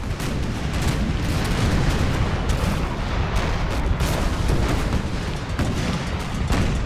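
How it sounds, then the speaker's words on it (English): Naval cannon fire from ships in Napoleon Total War rolls on as a continuous, heavy barrage of booms and rumbling blasts with no pause. "Nelson's taking heavy amounts of fire from the ships around him."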